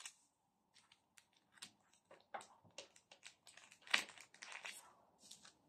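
Scissors cut through pinned fabric layers for a pleated skirt with a corset waistband, giving a quiet, close series of irregular snips and crisp rustles with pauses between them.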